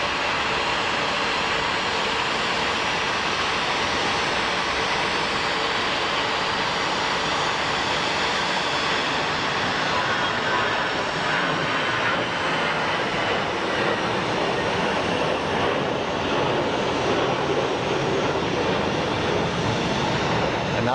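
An airplane departs Phoenix Sky Harbor airport with a loud, steady, broad jet engine roar that holds throughout with little change.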